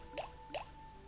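Two small creatures dropping into water in the Pikmin video game, a pair of quick soft plops about a third of a second apart over a faint steady tone.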